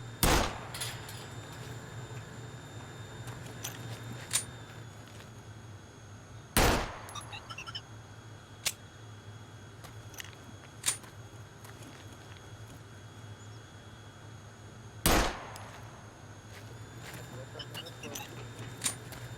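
Sharp gunshots fired in the survival video game SCUM, three loud isolated reports spaced several seconds apart, with a few fainter clicks between them over a steady low background hum.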